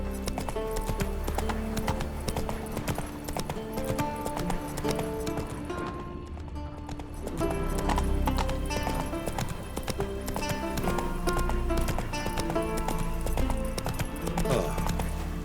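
Roach the horse gallops in The Witcher 3, a steady rhythmic clip-clop of hooves running continuously under a dense, loud game soundtrack, with a brief dip in the music midway.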